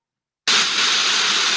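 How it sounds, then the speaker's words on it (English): Water tumbles down a big waterfall at a mill in rural France, a loud, steady broadband rush that starts abruptly and continues unbroken at close range. "Water tumbles down from the big fall"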